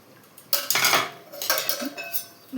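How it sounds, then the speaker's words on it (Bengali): Rice being stirred in a cooking pot for a spiced pilaf, with close metallic scraping and clinking of a spoon against the pot in two short bursts, no voices. "ভাতগুলো একটু নেড়ে দেব"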